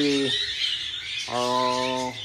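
Baby birds in a nest of three squawk in two sustained, harsh calls separated by a short pause, loud and close.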